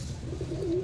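Punjabi pigeons at a bird seller's loft coo softly, a low steady murmur with a brief clearer coo rising near the end, close by and alone without talk.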